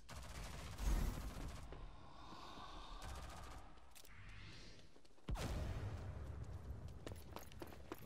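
Bursts of gunfire in the shooter game Rogue Company, loud and close. Sharp volleys start near the beginning and again after a brief lull, with whooshing effects in between.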